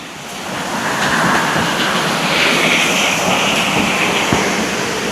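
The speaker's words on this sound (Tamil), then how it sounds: "தண்ணி ஓடிக்கொண்டிருக்கு, சத்தம் பார்க்க நல்லா இருக்குது." Water flows in a stream in a Sri Lankan rambutan garden, a steady, loud, broadband rushing wash close to the microphone with no talk.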